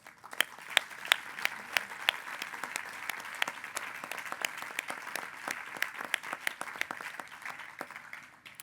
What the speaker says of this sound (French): Je vous invite donc, chers collègues, ensemble à saluer et à applaudir le travail exceptionnel qui a été réalisé par les membres de la commission du débat.